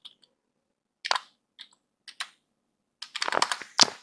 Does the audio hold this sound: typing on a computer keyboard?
yes